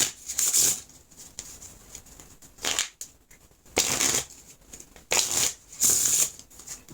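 A slippery deck of cards dusted with fanning powder is riffle-shuffled several times in quick bursts, each a crisp fluttering whirr separated by short pauses, close and clear with no talking.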